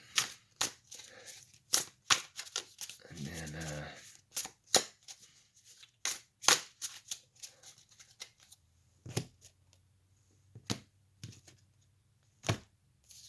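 Rapid riffling and snapping of cards in several short bursts, close by, with a brief spoken phrase partway through.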